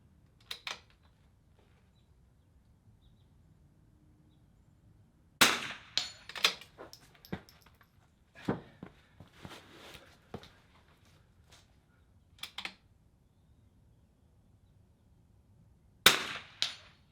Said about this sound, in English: Shots hitting a little high.